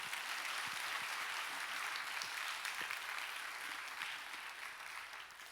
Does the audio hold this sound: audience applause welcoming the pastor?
yes